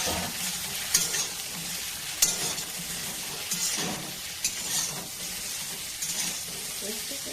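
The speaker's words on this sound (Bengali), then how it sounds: "চিংড়ি মাছগুলোকে কড়াইয়ের মধ্যে দিয়ে দিচ্ছি ভেজে নেব" Prawns sizzle in hot oil in a wok, a continuous crackling fry broken by several sharp scrapes and clacks of a spatula stirring them.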